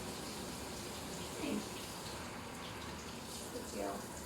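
Water runs steadily from a tap into a bath in preparation for washing a dog, a constant close rushing hiss with small splashes and faint background noise.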